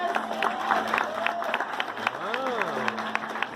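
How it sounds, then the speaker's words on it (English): An audience applauds at a sea lion show at the Gulfarium, steady clapping and crowd noise under a presenter's amplified voice. "Let's give it a big round of applause."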